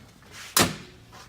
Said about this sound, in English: what you want to do is close the door